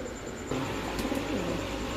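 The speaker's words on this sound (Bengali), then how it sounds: "এখন দেখাবো এক জোড়া শাটিং কবুতর, কিন্তু এটা কিন্তু টেম করা।" A pair of tame shatting pigeons kept for sale coo close by, a brief, soft, throaty call rising over a steady background hum.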